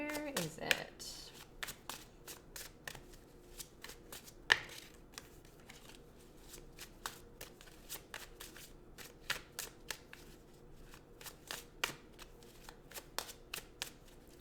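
Tarot cards being shuffled by hand, with a quick run of crisp riffles and taps repeating in uneven bursts, one sharper slap early on, and soft talking underneath.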